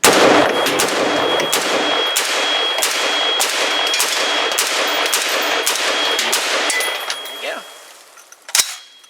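Brownells BRN-10A rifle firing NATO ammunition at an outdoor range, a rapid string of about a dozen loud sharp shots with metallic pings between them, ending in a final isolated report.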